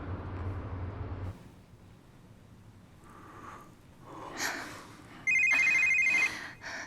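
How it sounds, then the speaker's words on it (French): Telephone ringing in a quiet room, a short electronic ringtone burst near the end after some faint breathing and rustling, moderately loud against low background. "toi et ce satané téléphone, ne réponds pas"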